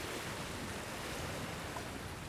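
Gusty wind buffets a rocky shoreline on the Isle of Skye, mixing with the wash of surf in a continuous, dense roar that stays steady and faint throughout.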